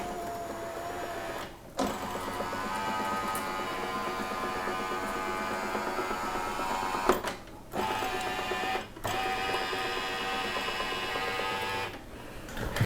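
A snowblower's electric chute direction control motor runs steadily on a bench test with the key on, giving a continuous whirring drone broken by a few brief pauses, close and moderately quiet, with no one speaking.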